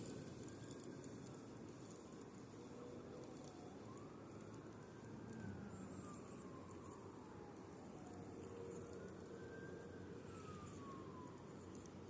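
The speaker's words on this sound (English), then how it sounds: "all of a sudden you just hear sirens" Distant sirens wailing, rising and falling slowly, faint against a quiet outdoor background at the Milwaukee River dam.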